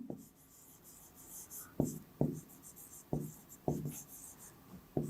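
Pen or marker strokes on paper or a board while working out a class 6 maths ratio problem: a series of short, scratchy writing bursts at irregular intervals, close and fairly clear against a quiet room.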